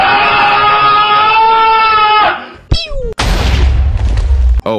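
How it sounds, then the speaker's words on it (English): A sun god ball combined with a dart bursts in a video game, with a sharp boom standing out against the game's layered electronic tones. "just a dart of mine combined with a sun god ball that explodes"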